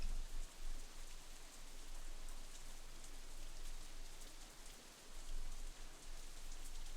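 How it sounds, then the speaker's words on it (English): Steady rain falls throughout in the visual novel Katawa Shoujo, a dense, even hiss of drops on surfaces with no pauses, fairly loud and unbroken. "it starts to rain again."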